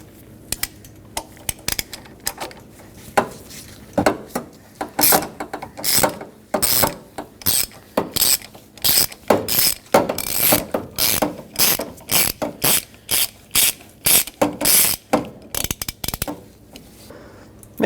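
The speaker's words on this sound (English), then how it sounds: "We're going to use a 27mm socket with a long extension, a swivel on the end of it to break that free" A ratchet with a 27mm socket on a long extension and swivel, loosening the oil filter housing cap on a 2012-2019 Fiat 500, gives bursts of rapid close clicking that grow busier and louder, with short pauses between strokes.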